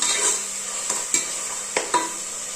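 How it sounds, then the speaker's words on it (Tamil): Ginger and garlic sautéing in a pot for mushroom biryani: a soft continuous sizzle broken by several sharp spoon clacks and scrapes against the pot, close up with no voices. "இப்போ இஞ்சி பூண்டு ஸ்மெல் போகிற வரைக்கும் நம்ம வதக்கி விட்டுக்கலாம்."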